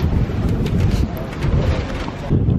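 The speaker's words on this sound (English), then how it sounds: "Ooh, a little windy," Wind buffeting the microphone on the open deck of the cruise ship Nieuw Statendam in port at Grand Turk, a steady low rumbling roar with gusty swells over about three seconds.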